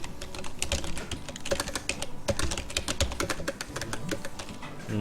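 Fast, crisp keystrokes on a computer keyboard while commands are entered in AutoCAD, a dense run of close clicks and taps continuing throughout with no speech.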